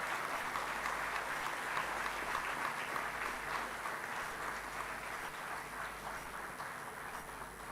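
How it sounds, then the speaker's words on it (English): An audience at a memento presentation ceremony claps in sustained applause, a dense, steady patter of many hands that holds at moderate volume and eases slightly toward the end, with no talk over it. "Let's have a big round of applause,"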